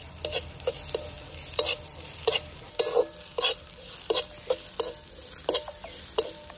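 Sliced onion and ginger-garlic paste sauté in a pan for mutton curry, a low sizzle punctuated by regular, crisp scrapes and taps of a spoon stirring every half second, close up with no talking.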